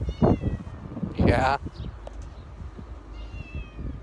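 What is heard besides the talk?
cat meowing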